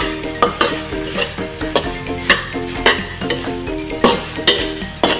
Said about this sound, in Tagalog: haluin lang po ulit natin mga kailyan